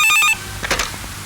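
An old landline telephone bell rings in a short burst in a police commissioner's office scene from a Kannada film, loud at first, then cutting off into a quieter stretch of room sound.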